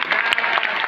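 Applause from an audience at a direct-selling company function in Jaipur, a steady, dense clapping that fills the whole moment at close range with no talk over it.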